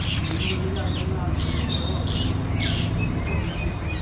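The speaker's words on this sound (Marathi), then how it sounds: "पक्ष्यांचा आवाज ऐकायला खूप भारी वाटतं." Birds calling near a lake, with bright chirps and squawks repeating in short bursts over a constant low background rumble, moderately near.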